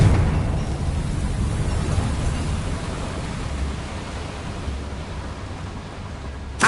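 A Confringo blasting spell goes off in the video game Hogwarts Legacy, giving a loud, broad roar of explosive noise that holds steady and then fades slightly, with a sharp burst at the very end.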